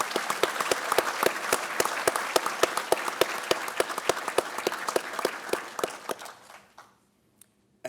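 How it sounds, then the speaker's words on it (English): A round of applause at a police academy graduation ceremony in Virginia Beach: a crowd claps steadily with sharp rhythmic claps standing out, then it fades out and falls nearly silent, with a few isolated claps at the end. "please join me in a round of applause."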